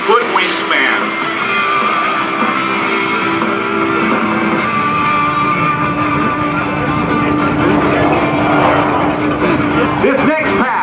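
An aerobatic aircraft flies a four-point hesitation roll at the NAS Oceana airshow, its engine a loud, steady drone with pitch shifts throughout, under continuous talk over a public address.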